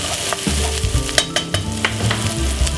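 Onion fries in oil over medium heat, giving a steady close sizzle broken by repeated scraping and clattering knocks as it is stirred in the pan.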